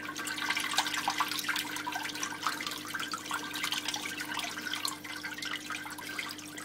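Water pours steadily from an All Pond Solutions 2000EF+ external pond filter, a continuous close splashing rush with a faint steady hum beneath and no voices.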